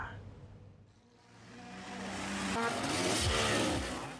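Trail motorcycles racing at a national hard enduro event in Sleman, Yogyakarta, Indonesia, engines rising from a distant drone to a loud, close revving pass and fading again.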